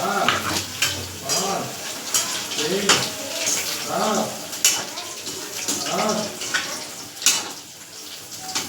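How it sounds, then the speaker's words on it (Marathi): Steamed momos frying in a pan: a continuous close crackle and sizzle with intermittent stirring, while muffled voices murmur underneath. "चला मग आपण यांना आता फ्राय करून घेऊ"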